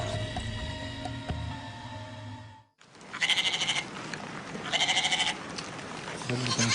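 A man imitates a goat, giving two loud nasal, wavering bleats after a stretch of background noise and talk, then a short third cry at the end.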